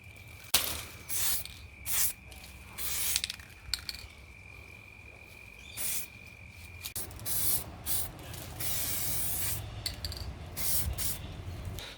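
Aerosol spray bursts apply plastic primer and satin black acrylic paint to the inside of a headlight housing for a Nissan Patrol retrofit, a series of short hissing sprays followed by longer, more sustained spraying, close by and loud.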